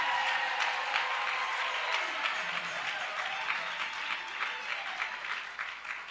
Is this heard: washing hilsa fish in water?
no